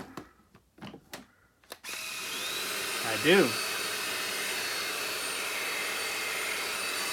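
A brief spoken phrase and some handling knocks, then a WOWGO cordless stick vacuum cleaner motor starts and runs steadily with a smooth, moderate whine.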